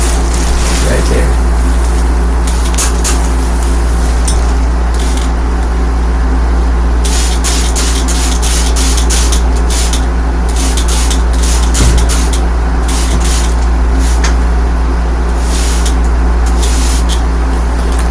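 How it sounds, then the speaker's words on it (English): An aerosol can sprays at a bug indoors in a steady hiss with short bursts, alongside a constant low hum, while a person talks nearby. "before I spray it?"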